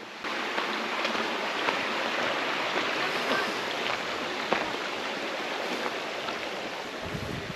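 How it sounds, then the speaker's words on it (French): A small river flows past a bridge in a village, a steady broadband rush of water that stays even and close throughout, with no voices. "Bien sûr le ruisseau,"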